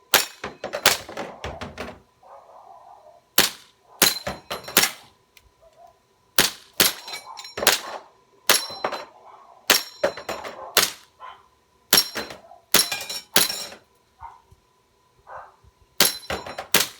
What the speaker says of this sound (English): So I'm gonna shoot the Polish plate rack and then shoot the Texas Star.